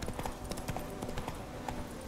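Horse hooves clip-clopping at a steady trot while riding in the video game The Witcher 3, an even rhythmic beat of hoof strikes, moderately quiet and heard on its own.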